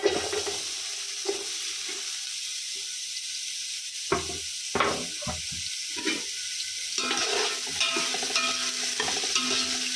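Thinly sliced medium onions frying in two spoons of ghee, a steady hiss with intermittent stirring clatters and scrapes, close by.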